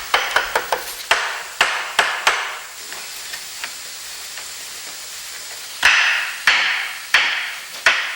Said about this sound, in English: You can adjust it by using a hammer.